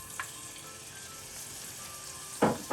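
Pork mince fries in vegetable or olive oil in a warmed pan, giving a quiet, even sizzle with a couple of short stirring scrapes.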